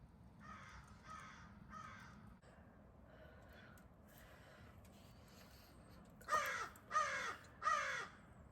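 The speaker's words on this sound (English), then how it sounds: "The crows sound like they're hungry too." Crows caw in a snowy winter forest, a few hoarse calls early on and then three louder, nearer caws in quick succession over a low steady background hiss.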